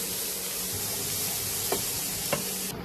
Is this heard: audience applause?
no